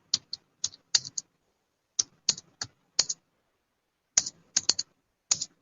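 Typing on a computer keyboard while entering a bank account number in Tally accounting software, heard as short clustered bursts of key clicks with pauses between them, close and alone.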